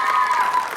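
Applause for the dance group Mozaika at a performance, a dense steady clapping crowd sustained close and loud throughout the short moment.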